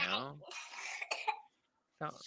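A single harsh cough up close, followed by a short voiced sound and a brief silence before another voice starts.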